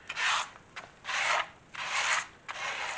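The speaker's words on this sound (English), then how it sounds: "all I'm doing is roughing that smooth edge up just a little bit" Emery cloth rasps back and forth across a smooth leather edge in four even, scratchy strokes, each a short dry rub separated by brief pauses, close and clear with no talking.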